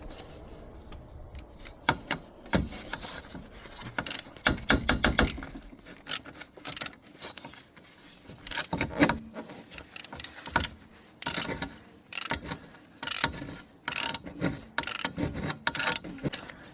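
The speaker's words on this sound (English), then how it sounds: "Use a torque wrench to torque it up to 25 Newton meter." A torque wrench tightening the oil filter housing on a Chevrolet Aveo, heard up close as scattered clicks, scrapes and rubbing handling noises in irregular bursts, with no speech.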